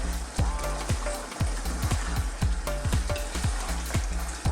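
Stirring fresh coriander into a sizzling chicken and eggplant (brinjal) curry in a pan: steady loud frying hiss with a regular series of spoon or spatula scrapes and knocks, close up, no talking.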